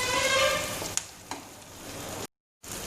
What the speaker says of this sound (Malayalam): ഇനി ജസ്റ്റ് ഇതൊന്ന് നന്നായിട്ട് ഒന്ന് മൂപ്പിച്ചെടുക്കുക